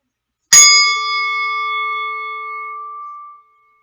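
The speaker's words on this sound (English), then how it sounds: "I'm going to ring the bell now and begin counting your breaths" A single strike of a meditation bell rings loud and clear, its pure sustained tone decaying steadily over about three seconds before falling silent.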